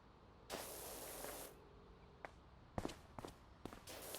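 Pressure washer spraying in Powerwash Simulator, a steady broadband hiss for about a second, then a string of short sharp bursts and a longer final spray, fairly close with no talk over it.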